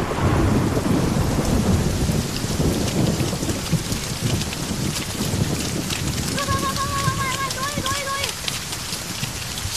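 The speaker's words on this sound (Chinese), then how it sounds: "这瓢泼大雨，荒山野岭哪有人啊？" Heavy pouring rain roars in a thunderstorm over remote wild hills, with rumbling thunder throughout and brief voices underneath toward the end.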